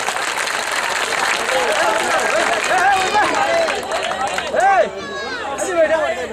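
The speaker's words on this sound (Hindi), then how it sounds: "दोस्तों एक बार पूरा मजमा तालियां बजाओ" A crowd applauds at a mushaira, an Urdu poetry gathering, in a sustained wash of clapping with chatter and a voice speaking over it throughout.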